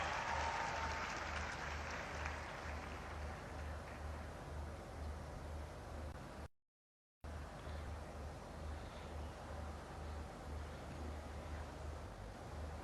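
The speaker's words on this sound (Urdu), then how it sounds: "ایک بار پھر سے زوردار تالیاں." Sustained loud applause from a large crowd at a formal ceremony addressed by a chief minister, steady and dense throughout with a brief dropout midway, no speech over it.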